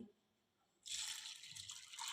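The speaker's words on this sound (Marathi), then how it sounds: "आपल्याला हे साबुदाणे दोन ते तीन पाण्याने स्वच्छ धुवून घ्यायचे आहे" Sago rinsed in water in a bowl, starting with near silence and then a sudden steady splashing and swishing of water that continues to the end.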